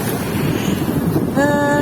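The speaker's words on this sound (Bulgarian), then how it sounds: "Тъй като морето е доста бурно" Rough Black Sea surf and gusting wind on the shore at Sozopol make a continuous blustery roar. Near the end a brief tonal whistle rises over it.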